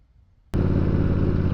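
A turbocharged Triumph Bobber motorcycle fires up after a quiet moment, its engine suddenly loud and close with a steady, rough running note.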